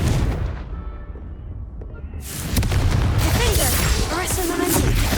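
Confringo spell explosions in Hogwarts Legacy, with booming blasts and gunfire-like bursts that swell louder midway, heavy and close, mixed with other game combat sounds.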